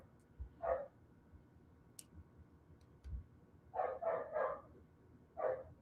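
A puppy barks at a cat, with a single bark, then a quick run of three barks and one more, moderately close in a quiet room with faint background noise.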